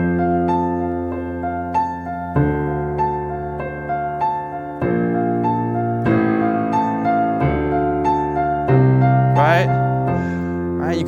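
Piano chords of a slash-chord progression ring out an octave higher, with sustained harmonies shifting every couple of seconds and light melodic runs on top.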